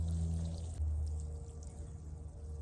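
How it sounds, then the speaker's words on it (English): Water poured from a container into planting holes in garden soil for sweet peas, a short low gurgling splash that cuts off and restarts, then trickles faintly at close range. "So I am going to put water in these holes and then plant them."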